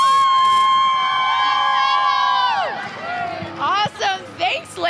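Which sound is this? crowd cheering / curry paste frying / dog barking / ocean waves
crowd cheering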